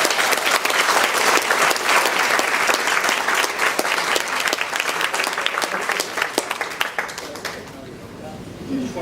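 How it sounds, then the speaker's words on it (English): Loud, sustained applause from a crowd at a wedding, dense clapping filling the room and tapering off slightly near the end. "So I'd like to have a little round of applause for Matthew."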